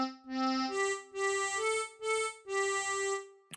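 A tremolo harmonica plays the opening phrase of Twinkle Twinkle Little Star: several sustained, wavering reedy notes in a steady stepwise rhythm. The notes come clear and close, with short breath gaps between them and no talking.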